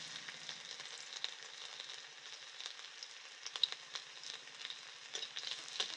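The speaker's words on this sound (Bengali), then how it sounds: "তেলের উপর দিচ্ছি কালো জিরে, কুচিয়ে রাখা রসুন," Chopped garlic and black cumin seeds fry in hot mustard oil with a steady, soft sizzle and light crackling pops for several seconds, close and alone without voices.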